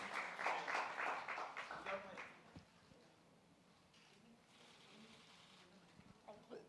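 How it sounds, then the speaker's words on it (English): Applause and clapping from an audience at a face wash product launch event, a dense burst for the first two seconds that fades into quieter crowd murmur. "A huge round of applause."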